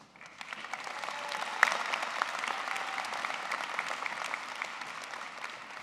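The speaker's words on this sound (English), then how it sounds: "Give yourself a round of applause, come on." A university commencement crowd applauds steadily for several seconds, a dense, moderately distant patter of clapping that swells slightly and holds with no voices over it.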